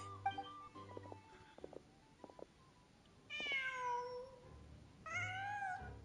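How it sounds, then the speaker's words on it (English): Cat meowing in the video game Genshin Impact: two drawn-out, rising-and-falling meows close by over a quiet ambient backdrop, after a few soft clicks. "Just a cat."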